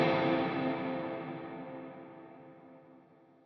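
A single strummed chord from an electric guitar through a Line 6 Helix plate reverb rings out loud at first, then its wash of reverb decays slowly and smoothly over several seconds with no talking.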